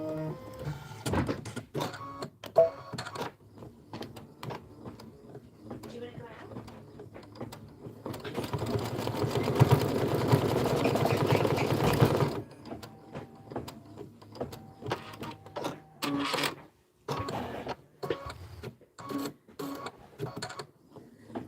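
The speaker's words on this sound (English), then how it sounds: "you're going to stitch the fence placement line" An embroidery machine stitching a fence placement line on a quilt block, with a steady mechanical whir for several seconds amid intermittent clicks, taps and handling noises, close by with no voices.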